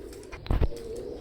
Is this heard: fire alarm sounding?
no